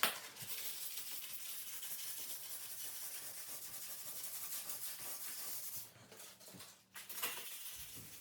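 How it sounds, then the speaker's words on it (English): Steady, soft rasping of sandpaper rubbed by hand across a bathroom vanity mirror mount, continuous strokes that pause briefly near the end. "So let's go ahead and sand that off."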